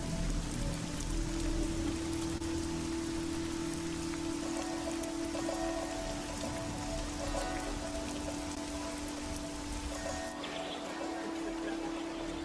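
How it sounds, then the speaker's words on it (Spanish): Heavy rain pours down during an April 2016 storm near Espino after several days of intense downpour. A dense, continuous hiss of drops and runoff persists at moderate level throughout, with no speech. "Desde hace 4 días llueve con intensidad."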